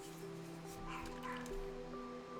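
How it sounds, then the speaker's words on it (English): A dog barks and whimpers in the background, a few short yips rising over a quiet indoor hum. "Sorry for background noise, dog's barking."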